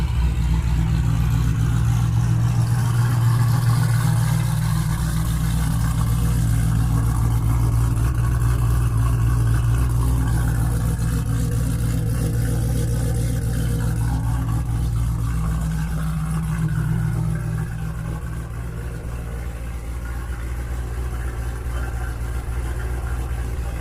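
A stick-shift Ford Mustang warms up at a steady, deep idle, with a loud low rumble that holds nearly constant and eases slightly toward the end.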